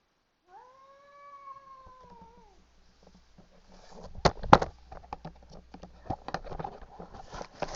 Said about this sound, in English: that's cats doing cat noises